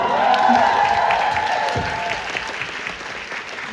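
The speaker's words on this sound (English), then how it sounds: "I got a bigger applause than Loud and Swing." Convention crowd applauds at a fan panel, a dense, loud wash of clapping and cheering that gradually thins and fades, with a brief voice heard partway through.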